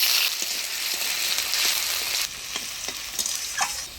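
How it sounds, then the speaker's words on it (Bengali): Potatoes and eggplant frying in hot oil with dried red chili, whole cumin and bay leaf, a loud continuous sizzle broken by repeated stirring scrapes, close up with no talking. "আলু দিয়ে ফুললে তুলে নাড়াচাড়া করে নিলাম"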